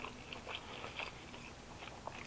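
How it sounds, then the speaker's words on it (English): Quiet, close chewing of a Wendy's Italian mozzarella sandwich, with soft crunchy bites and moist mastication repeating in an irregular rhythm, no talking. "you can see I'm like taking mad time to chew in between."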